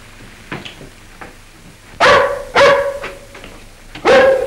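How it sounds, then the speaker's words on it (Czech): A dog in a house barks loudly and close by, three sharp barks about a second apart, preceded by faint softer yips and background noise, with no speech. "Ten pes spudí celý dům."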